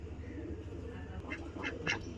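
A farm duck in its cage quacks a few times in the morning, faint short calls clustered toward the end over a low steady background hum.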